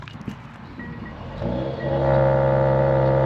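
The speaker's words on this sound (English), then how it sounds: "AMG GLE 53. See how she sounds." A Mercedes-AMG GLE 53 turbo engine starts and revs up close, settling into a loud, steady, rumbling idle after a brief clatter.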